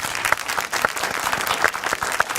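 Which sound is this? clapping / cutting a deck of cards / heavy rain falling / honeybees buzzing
clapping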